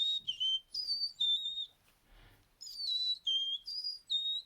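A person whistles an imitation of a Carolina chickadee song: clear high whistled notes in short rising and falling phrases, a brief pause midway, then more phrases, close and alone.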